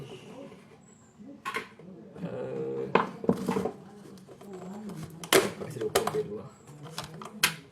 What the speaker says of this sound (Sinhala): තෙල් රත් වුණ ගමන් අබ තියනවා.